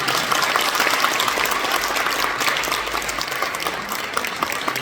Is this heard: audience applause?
yes